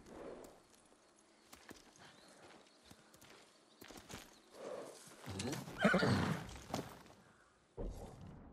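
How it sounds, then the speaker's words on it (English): In the video game Ghost of Tsushima, a horse whinnies loudly over scattered clip-clopping hooves, with bursts of clattering noise; a louder, drawn-out neigh comes near the end. "I'm gonna take that horse to the old town road."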